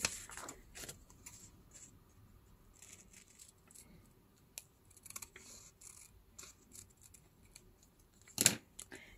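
Scissors cutting paper for a handmade journal, a few faint snips and rustles in a quiet room, ending in one louder sharp cut.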